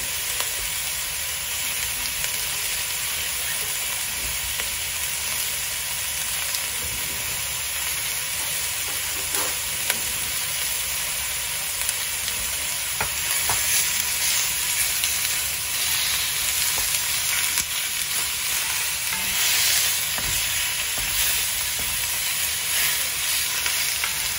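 Pork pieces sizzle and fry steadily in a pan, a continuous bright crackling hiss with occasional sharper pops and stirring sounds throughout.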